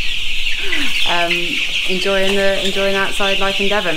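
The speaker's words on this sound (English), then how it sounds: "we are going to take these chickens from their early life in the brooder" Hubbard meat chickens raised outdoors free-range in Devon cluck in repeated short bursts, fairly close and clear, with a person speaking over part of it.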